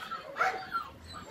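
A giant Great Dane named Bob lets out a short, muffled bark followed by a softer whimpering yelp, close by against a quiet background.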